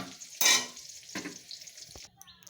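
Eggs frying in oil in a pan give a soft sizzle, broken by a few short scraping and clinking strokes of a utensil, close and fairly quiet, with no talking.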